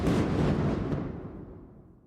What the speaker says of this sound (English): And then, a loud explosion.